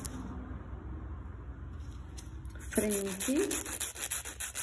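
Nail file scraping along the side wall of a gel nail: steady close rasping strokes in a quick back-and-forth rhythm, louder and denser in the second half, with a brief spoken word in the middle.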